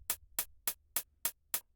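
A distorted, tinny hi-hat programmed in beat-making software for a trap beat ticks in a steady pattern of six sharp, bright hits, evenly spaced over a faint low hum.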